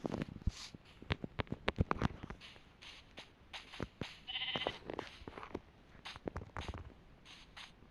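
Short Minecraft sheep bleats sound amid busy clicking, tapping and shuffling noises, fairly close and moderately loud, with no one talking.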